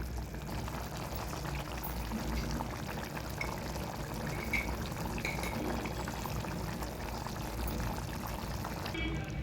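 Water is poured into mutton curry cooking in a plain pot after chili powder is added, making a steady, low, bubbling pour that continues evenly throughout without talk.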